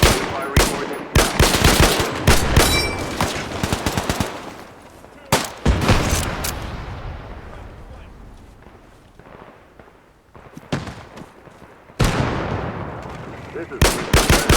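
Artillery and gunfire in the military shooter Arma 3 set in 1944, with heavy booming blasts and rattling bursts of shots, loud and close, fading into distant rumbles before erupting again; voices speak in between.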